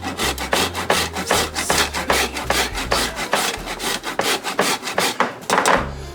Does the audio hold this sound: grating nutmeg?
yes